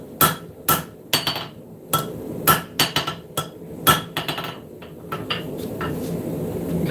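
A hammer strikes hot steel on an anvil about a dozen times in uneven bursts, each blow a sharp ringing clank near at hand, with small taps between the heavier hits in a shop.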